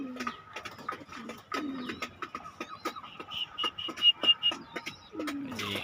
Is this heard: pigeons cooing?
yes